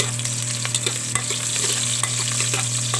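Fresh sliced garlic and onion sizzle and fry in a hot pan for a sautéed mung bean dish, with a steady crackle and repeated stirring scrapes up close, and nobody talks.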